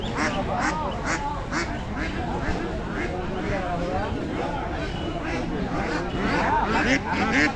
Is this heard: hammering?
no